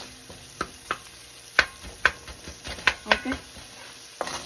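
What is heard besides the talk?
stirring onion and garlic in a pan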